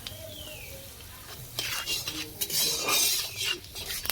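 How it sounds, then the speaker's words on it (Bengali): Panch phoron spices frying in hot oil with bay leaf, a steady crackling sizzle that grows louder and busier midway with stirring scrapes, close by and without talk. "পাঁচফোড়ন দিলাম পাঁচ যতক্ষণ মশলাটা ভাজি"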